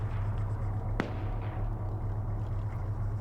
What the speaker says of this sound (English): He takes a shot, and no one turns to see what the heck that gunshot was about.